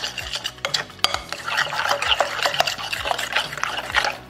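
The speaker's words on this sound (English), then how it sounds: "Mix that up." A Valentine's Day dessert mixture being stirred in a bowl, wet squelching and scraping with intermittent clinks of utensil against the dish, close-up and continuous for a few seconds with no speech.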